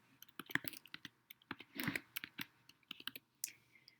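Close, quiet typing on a computer keyboard, with irregular clusters of crisp key clicks and a brief busier burst in the middle, alone without talk.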